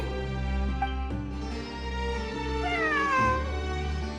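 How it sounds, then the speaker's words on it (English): A cat meows once in Genshin Impact, a drawn-out, falling call rising over sustained game music that plays throughout. "A cat? I think there was one earlier, too."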